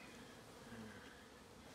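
Bees buzz around a beehive on a large family homestead, a steady, faint, continuous drone with no breaks and no voices.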